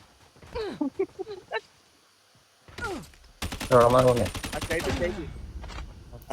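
Sniper rifle gunfire in the mobile shooter Call of Duty Mobile, with sharp shots and game effects mixed among bursts of talk, loud and close.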